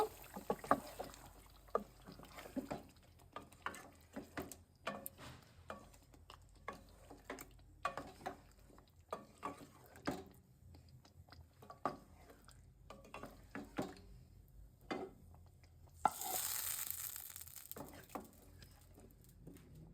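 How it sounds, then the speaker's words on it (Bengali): Chicken curry being stirred in a cooking pot after ghee, chilli and water have gone in, with irregular scraping knocks and taps of the spoon against the pot, and a brief louder hiss near the end. "এটা নেড়ে নিচ্ছি আমরা এটাকে নেড়ে নিচ্ছি"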